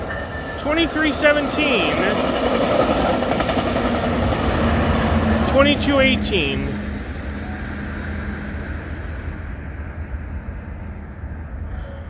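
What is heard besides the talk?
VIA Rail passenger train passing at night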